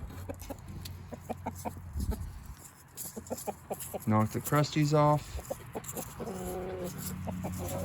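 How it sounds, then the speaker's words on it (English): A laying hen clucks repeatedly in short bursts, close by, with louder squawking calls midway, while a person talks briefly over the scratching barnyard ambience. "yep, there's a hen laying in here."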